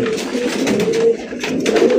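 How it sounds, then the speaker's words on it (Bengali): Close, low cooing of an Indian Bombay pigeon, a throaty rolling coo repeated in soft pulses, with no voices. "খুবই সুন্দর একটা ইন্ডিয়ান বোম্বাই কবুতর দেখতে পাচ্ছেন"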